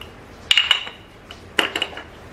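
A spoon mixes tandoori chicken marinade with raw papaya paste, lemon juice, salt and colouring in a bowl, making two short bursts of bright clinking against the bowl, each a few quick taps, close and clear.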